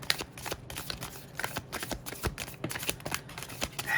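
Tarot cards being shuffled and drawn during a reading, with a steady run of crisp, close riffling and slapping card sounds that continues alone for a few seconds.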